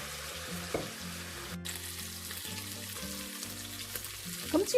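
Pork ribs pan-frying with ginger slices and garlic, a quiet continuous sizzle in the pan beneath a low steady background hum, with a few faint clinks.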